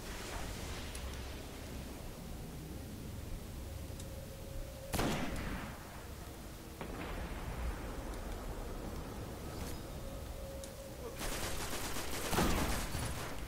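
Gunfire in a Destiny Iron Banner Control match on PS4, a few sharp cracks set against steady background hiss, spaced several seconds apart and fairly faint, with no talking.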